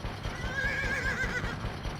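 A horse in the video game GUN lets out a single shrill, wavering whinny lasting about a second over a low rumbling background, with no speech.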